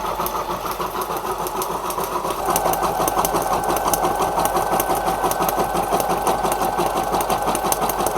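An electronic embroidery machine stitches a bear appliqué. It chatters in a fast, even rhythm up close, with its mechanical hum stepping up to a denser, slightly louder stitching pattern partway through.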